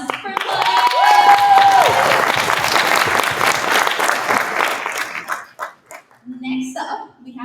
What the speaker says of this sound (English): So a big round of applause for Mike.